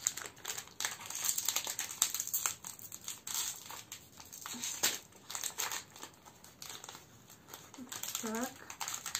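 A wrapper being torn open on a glazed curd cheese bar filled with condensed milk, close crinkling and rustling of thin plastic in bursts, with brief speech near the end.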